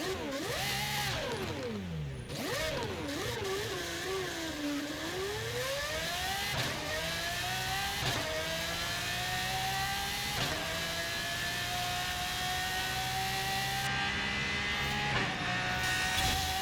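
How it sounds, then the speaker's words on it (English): A Pagani Huayra R in Forza Horizon 5 screams through its revs, the engine note sweeping up and down between gear changes before holding a loud, steady high-pitched wail. "Pagani Huayra R is mental. It absolutely screams."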